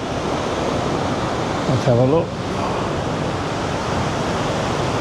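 Broad steady roar of the Krka National Park waterfalls in Croatia, a constant wash of falling water filling the whole clip, with a brief voice speaking over it near the middle.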